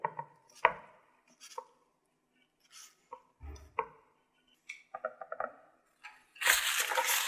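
A knife cuts through thinly sliced beef for carpaccio in a series of separate close taps and soft slicing strokes with pauses between them, followed by a louder burst of rustling noise at the end.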